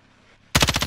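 Gunfire in Call of Duty: Modern Warfare, a sudden loud burst of rapid, evenly spaced shots that starts abruptly after near silence.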